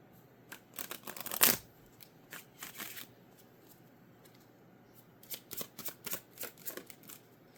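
A deck of tarot cards shuffled close up in two bouts of quick riffling flutters, the first peaking in a loud snap, then a quiet pause before softer shuffling resumes.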